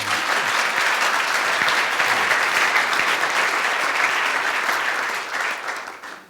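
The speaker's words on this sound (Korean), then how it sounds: "So if you really want to learn it, then let's have a big round of applause." Applause from a seated audience at a live talk on health and energy, a dense, steady clatter of many hands that holds for several seconds, then thins out and fades at the end.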